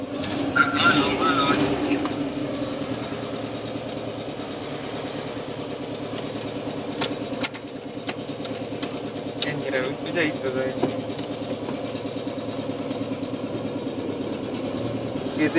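A ZAZ Zaporozhets car engine idles with a steady low rumble throughout, while people talk over it and occasional clicks and knocks break through.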